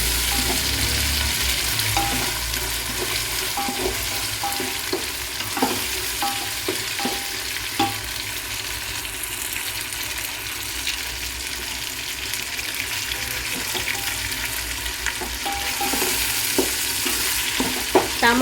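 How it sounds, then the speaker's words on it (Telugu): Tomatoes and spices fry steadily in a pan, a continuous bright sizzle with occasional stirring scrapes and small clicks throughout, close and without speech. "టమాటాలు మసాలాలు అన్నీ బాగా వేగుతూ ఉన్నాయండి."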